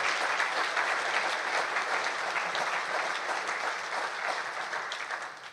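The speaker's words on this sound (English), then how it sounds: "So one more round of applause for Arvind." Steady round of audience applause for a guest at a CEO fireside chat event, even and sustained, tapering off at the close.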